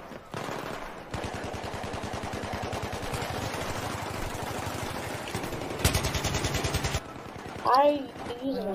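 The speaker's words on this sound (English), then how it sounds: "I'm using a shotgun, kid." Shotgun gunfire in a Conquest match of a shooter video game, heard as loud, rapid bursts of close shots that rattle on for several seconds, broken by brief pauses and a short engine-like noise near the end.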